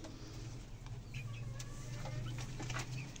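Chickens and chicks in a small backyard coop cluck softly and steadily, with faint chirps scattered over a low, constant background hum and no talk.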